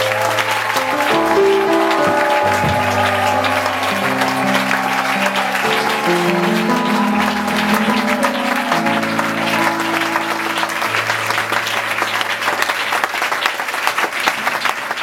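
A congregation at an Easter retreat in a Cameroonian church claps steadily and loudly for the whole stretch, the applause blended with sustained tones of music beneath it.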